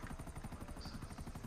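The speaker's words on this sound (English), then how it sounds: "Guys, I'm bad at driving helicopters" Steady rotor chop of a helicopter flown in the video game Grand Theft Auto, loud and continuous with fast, even beating blades and no talk over it.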